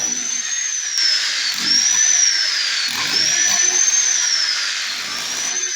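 A hammer drill whines steadily at high pitch boring into concrete for an electrical box, its tone dipping and rising, with low grinding thuds beneath, close and continuous.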